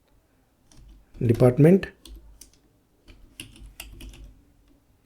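Keys clicking on a computer keyboard as a SQL statement is typed, with a few soft keystrokes coming in a short burst after a brief spoken phrase from a nearby voice.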